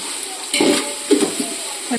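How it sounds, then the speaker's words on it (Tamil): Green chillies sizzling in a pan while being stirred for a large chicken biryani, a steady hiss with soft scraping stirs; a voice talks briefly. "கொஞ்சம் மிக்ஸ் பண்ணிட்டு இந்த பச்சை மிளகாய் போட்டுறோம்."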